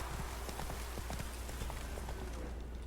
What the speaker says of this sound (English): Oh, whoa there, Roach